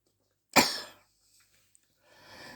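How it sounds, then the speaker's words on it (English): A smoker's cough: one harsh, loud burst near the start that trails off into a faint rattle, with throaty breathing or clearing returning toward the end. "That's my smoker's cough."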